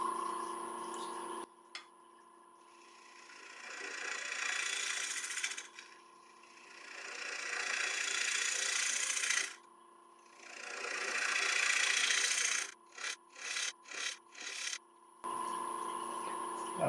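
A wood lathe spins an elm bowl at 800 RPM while a 3/8 inch ball gouge cuts it. A steady motor hum runs beneath several long scraping passes, then a quick series of short cuts.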